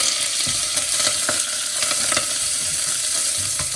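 Curry leaves and pandan leaves frying in hot oil with garlic for Sri Lankan yellow rice, a steady close crackling sizzle with scattered sharp pops and stirring scrapes throughout.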